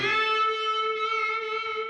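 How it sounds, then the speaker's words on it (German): Single sustained guitar note from the Driller plugin, one held tone with distorted, effects-laden harmonics ringing for about two seconds before cutting off, clear and close with no voices. "Dann eine Gitarre zum Anschlag,"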